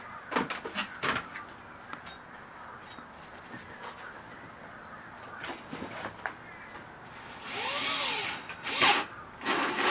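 A power drill bores a hole through the plastic lid of a fermentor bucket for an airlock, heard in short bursts early on, then a longer, louder whine with rising and falling pitch near the end.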